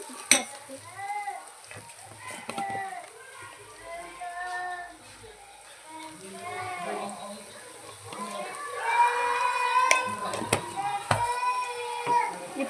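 Ginger and garlic fry in hot oil for a chicken curry, with a soft sizzle, stirring and the clink of a utensil against the pan while someone talks over the cooking.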